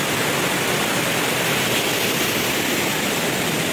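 Aliwagwag Falls pours in a constant, broadband roar of rushing water, loud and close, with no voices over it.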